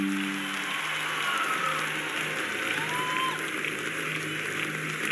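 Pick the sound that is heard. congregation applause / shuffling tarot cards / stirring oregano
congregation applause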